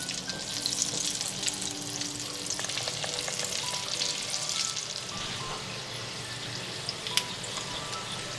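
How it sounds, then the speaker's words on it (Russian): Meat and pumpkin manti dumplings sizzle and crackle steadily in a hot oiled pan, with occasional soft scrapes and pops, close up and continuous without talk. "Минут 5 будем жарить, чтобы основание немного поджарилось."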